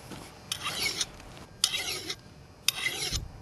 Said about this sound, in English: Alright, I gotta sharpen this just a little bit.